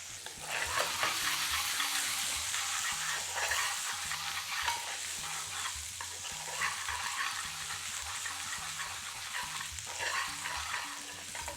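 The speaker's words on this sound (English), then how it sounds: "now I'm going to put in the green pepper" Green pepper and chillies frying with garlic and ginger in a pan, a steady close sizzle with the rhythmic scrape and rattle of a spoon stirring every second or two, no voices.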